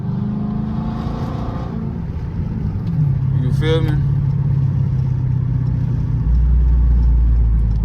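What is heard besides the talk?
straight piped Chrysler 300C 5.7 engine revving at night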